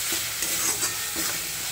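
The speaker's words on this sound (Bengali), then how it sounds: "তো চলো খুব ভালো করে মশলাটা একটু কষে নিই।" Spice paste for a pomfret fish kalia is stirred and fried in a pan, giving a steady close sizzle broken by scraping strokes of the spoon, with no talk.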